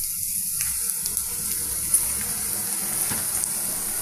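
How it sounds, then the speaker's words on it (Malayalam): Ginger sautés in a pan with a continuous, even sizzling hiss close by, dotted with faint clicks and light pops, with no talking. "ഇഞ്ചി നമുക്ക് വഴറ്റാം ഒത്തിരി അങ്ങ് വഴറ്റണമെന്നില്ല"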